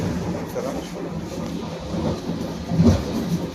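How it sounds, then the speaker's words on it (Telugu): A Vande Bharat express train runs at about 134 km/h on the Ayodhya to Varanasi route, heard from inside the coach as a steady, loud rumble with rhythmic clatter. Faint voices sit beneath it. "చూసారా బండి ఎంత స్పీడ్ గా వెళ్తుందో"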